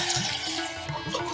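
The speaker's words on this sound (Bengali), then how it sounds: "আমি এবার এই চালটাকে ধুয়ে নেব, তবে খুব বেশি বার ধোবো না, একবার ভালো করে জল দিয়ে ধুয়ে নেব" Gobindobhog rice being washed with water, a steady rush of running water with soft splashes and stirring throughout, close and continuous.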